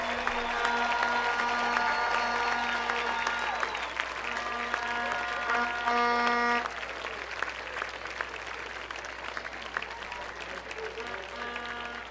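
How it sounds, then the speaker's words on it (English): Applause from a football stadium crowd during a ceremony at a varsity game, distant and steady throughout, with sustained tonal sounds layered over the clapping. "Ladies and gentlemen, please give a round of applause for Mr."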